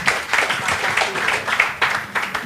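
An audience at an Indonesian talk on whether Jesus is God claps in a lively, uneven patter of many hands, fairly close, with brief voices mixed in.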